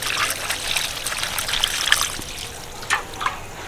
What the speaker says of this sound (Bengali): এবার কলের জলে একবার ধুয়ে নেব।